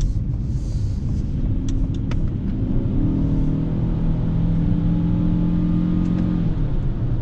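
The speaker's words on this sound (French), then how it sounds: "Ah, une accélération quand même un peu plus franche." A 2020 Ford Kuga ST-Line X plug-in hybrid SUV revs up and accelerates steadily, a loud, rising mid-pitched drone with climbing harmonic tones that holds strong for several seconds.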